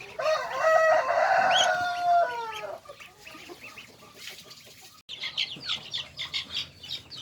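Two-month-old Burmese Shamo chickens crow loudly at close range, a long drawn-out call, followed by softer clucking and chattering from the flock, with no talk.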